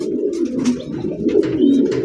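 Madrasi Golla pigeons coo nearby at a pigeon market, low throaty murmurs rolling continuously in overlapping calls.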